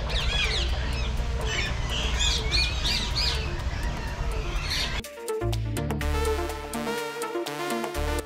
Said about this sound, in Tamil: இதுக்குள்ளதான் நிறைய வகை பறவை மயிலெலாம் இருக்குது